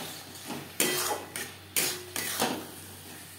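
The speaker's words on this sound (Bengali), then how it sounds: "আলু বেশ ভালো করে মিক্সড করে দেবো।" Boiled potatoes mixed with fried spices in a pan, a series of sharp metallic spatula knocks and scrapes at irregular intervals, close and clear.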